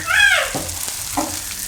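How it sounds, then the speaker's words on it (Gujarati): Okra frying in a pan on a gas stove, gently turned as it cooks, gives a steady close sizzle broken by a few soft scraping stirs. "આ રીતે હળવે હળવે ભીંડો ફેરવવાનો એટલે ભીંડો ભાંગશે નહીં"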